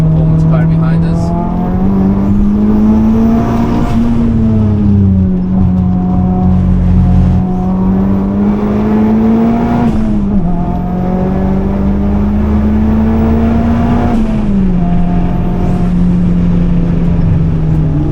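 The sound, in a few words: fast performance car driving on the Nürburgring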